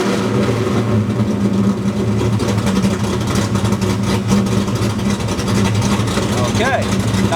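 A Ford Foxbody car engine idles steadily after startup, a continuous loud rumble with a raised idle that holds without any break, while a person talks over it.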